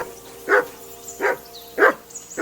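A dog in the medieval video game Kingdom Come: Deliverance II barks four times at a steady, spaced rhythm, loud and close against a quiet background hum.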